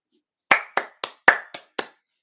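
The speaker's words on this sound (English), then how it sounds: "everybody clap for Marshall" Six crisp hand claps ring out close by in a quick, slightly uneven rhythm, each sharp and short, with a brief tail and no voices.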